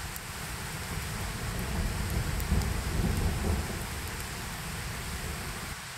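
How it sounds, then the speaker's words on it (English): Low, rolling thunder rumbles under a steady wash of rain in a forest at night, swelling briefly in the middle before settling back into constant, even rainfall. "it seems as if there's some thunder coming again."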